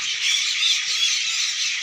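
A dense chorus of many birds calls at once around dusk, a steady bright chatter of overlapping chirps and squawks with no pauses, fairly loud and with no voices.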